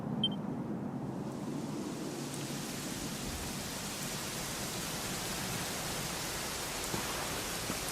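Steady rain in the video game Dragon Quest XI pours down in a dense, even hiss, fairly soft and continuous with no voices.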